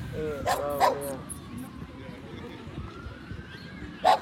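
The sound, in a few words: dogs barking in a park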